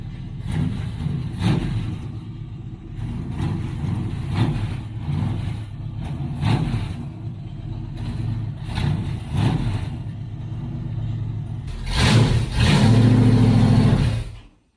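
A pro truck engine idles roughly and unevenly, with repeated short blips of throttle as it struggles to stay running, then finishes in a loud sustained rev that cuts off abruptly.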